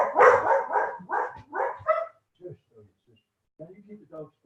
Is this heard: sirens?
no